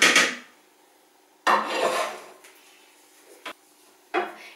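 Cooked pasta is tipped from a pan into a Monsieur Cuisine mixing bowl in several bursts of scraping, clattering and sliding, separated by short pauses, close and fairly loud.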